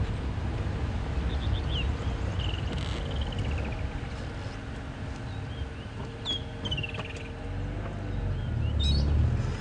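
Several birds call and chirp at a safari reserve in the morning, short whistled phrases and descending notes at moderate distance over a low rumbling vehicle background.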